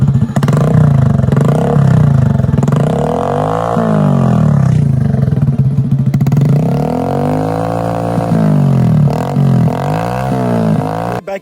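A modified motorcycle with a loud aftermarket silencer exhaust revs and accelerates close by, its engine note rising and falling in repeated swoops, loud and continuous throughout with no talk.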